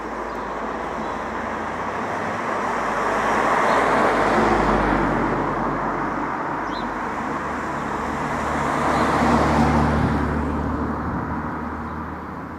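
Slow road traffic in the UK rolling past at a distance, a continuous low rumble that swells twice as vehicles draw near and fade away, with no talking.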